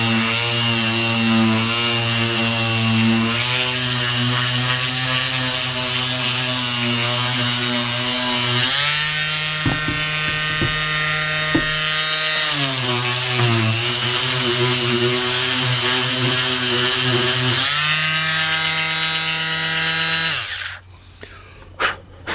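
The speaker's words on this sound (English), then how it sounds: "we're going to take our palm sander and sand the wood filler" Electric palm sander sanding dried wood filler flush with a wood surface, a loud steady buzzing whine with shifting pitch as pressure changes, running continuously close up before cutting off near the end.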